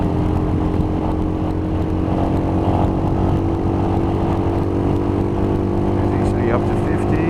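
A Royal Enfield Himalayan motorcycle rumbles along a road under steady throttle in third gear, a loud continuous engine drone with wind noise, heard from the rider's position with someone talking over it.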